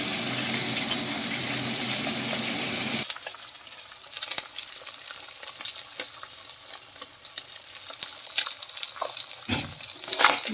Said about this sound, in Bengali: মাছে মাথা সুন্দর করে ভাজা হয়ে গেছে